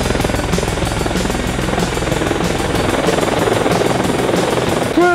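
A helicopter flies close by, its rotor and engine making a loud, steady, throbbing drone that holds without a break the whole time, with no talking over it.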